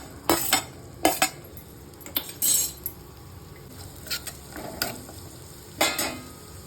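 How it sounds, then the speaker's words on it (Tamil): Onions sautéing in hot oil in a kadai, a soft sizzle under repeated scrapes and clinks of a stirring spoon against the metal pan, with short bursts of stirring spaced throughout. "அதுக்கடுத்து வெங்காயத்தை போட்டு வதக்க போகிறேன்"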